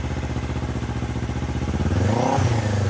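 A Kawasaki Ninja 500 fitted with a Yoshimura exhaust idles with a rapid, throbbing pulse, then blips the throttle into a short, rising rev close by.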